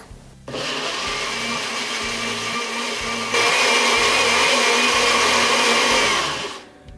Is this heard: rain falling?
no